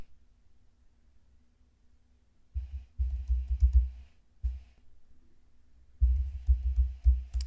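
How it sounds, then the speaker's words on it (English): Bursts of typing on a computer keyboard as a passphrase is entered, two runs of quick, close clicking keystrokes separated by a short pause, with no talking. "Typing my passphrase,"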